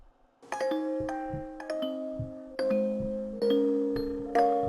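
Low, bell-like plucked notes from a music box sample pitched down 18 semitones ring out one after another in a slow melody, each tone sustaining and overlapping, sounding deep and mellow.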